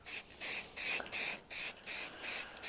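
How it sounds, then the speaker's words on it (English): Spray paint hissing onto bare metal in seven short bursts, each lasting roughly a quarter to half a second, with brief pauses between them. The hiss is close and steady, and no one speaks. "If I just hold it and spray"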